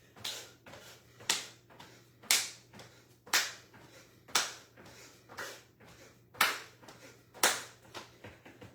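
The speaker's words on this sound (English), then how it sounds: "Clap your hands over the head." Hands clapped over the head during a calisthenics session in an early morning yoga class: sharp single claps in a steady rhythm about once per second, each ringing briefly in the room, with no talking.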